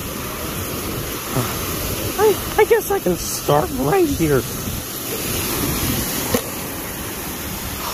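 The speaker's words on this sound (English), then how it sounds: "look at the waves and stuff" Ocean waves breaking on a beach give a steady, loud wash of surf with wind noise throughout, while a person speaks briefly over it.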